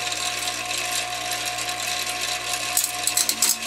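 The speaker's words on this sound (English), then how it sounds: "You put it to a grinder, you see the sparks?" An angle grinder cuts into steel salvaged from a scrapped commercial coffee maker. It makes a steady, loud, high mechanical whine with a constant hum, then some rougher scraping bursts near the end.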